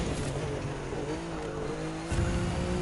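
A Maserati MC20 engine in the racing game The Crew 2, a loud steady roar holding a sustained tone, then jumping in pitch as it revs harder near the end, with no voices.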